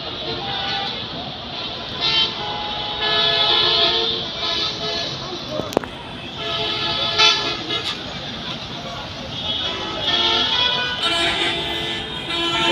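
Busy road traffic near a railway station flyover in Bangladesh on the eve of Eid, with repeated close horn toots and honks over engine noise and a voice talking throughout.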